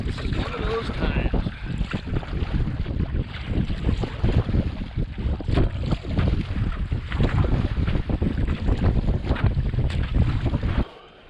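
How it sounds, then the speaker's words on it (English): Strong headwind while paddling a canoe with a double-blade paddle on Smoke Lake, a constant heavy rush of wind buffeting the microphone with water sloshing and splashing beneath it. "I had a wicked headwind"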